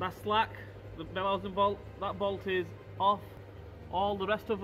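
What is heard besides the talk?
No distinct noise like a dog, phone or traffic.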